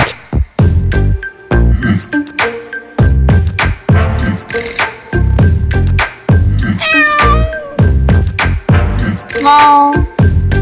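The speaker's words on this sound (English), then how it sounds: "Cat." A cat meows repeatedly in loud, close calls, some drawn out and wavering, interleaved with sharp percussive knocks and brief spoken words across the stretch.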